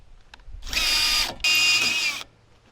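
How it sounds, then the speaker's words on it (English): A power drill bores holes for roof rack U-bolts on a DIY Nissan Xterra roof rack, running in two loud, close bursts of whining, grinding drilling, with a short pause between them. "So now I'm gonna drill them all, make sure that the U-bolt fits in all of them"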